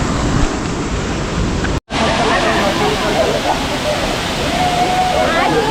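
Dudhsagar waterfall in Goa roars in a steady, broad wash of falling water, loud and close, with a brief dropout near the start before the torrent resumes unbroken.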